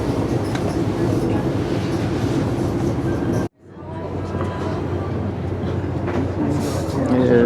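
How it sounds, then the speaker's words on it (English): A passenger train between Vancouver and Kamloops runs through Black Canyon, heard from near the back: a loud, steady rumble and clatter that drops sharply as it enters a tunnel, then builds again as an echoing roar. "There's the front of the train, and we're near the back of the train, and we're going through a tunnel."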